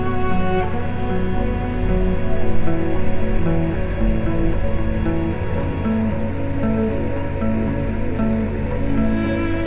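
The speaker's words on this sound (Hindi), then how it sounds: "चिकन को हमने फ्राई कर लेना है।" Chicken pieces fry with spices over high heat for haleem, giving a steady, dense rain-like sizzle that stays close and even throughout.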